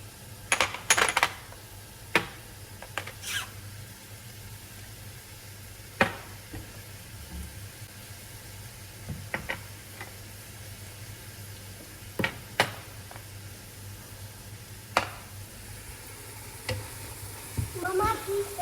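Carrots fry in a home pan as a spoon stirs them, giving a steady close sizzle broken by sharp scraping clicks of the utensil against the pan.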